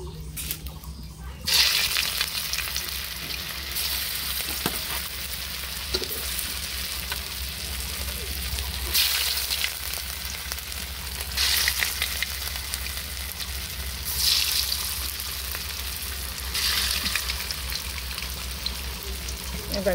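Food frying in hot oil while an iftar meal is prepared at home, a steady close sizzle throughout with periodic louder bursts as pieces are stirred or added.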